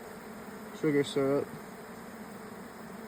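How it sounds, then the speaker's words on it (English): Robber honey bees buzz around a hive, with two short, loud close passes standing out against a faint steady hum; a voice speaks briefly. "this could be a whole bunch of robbing right now, because I do not think these are my bees"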